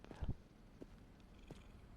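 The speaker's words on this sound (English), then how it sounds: "that cat loves to play, jumps all over the boxes" A cat in the Cash Cleaner video game purrs softly and gives a few short meows, faint and close, with scattered brief bumps in an otherwise quiet scene.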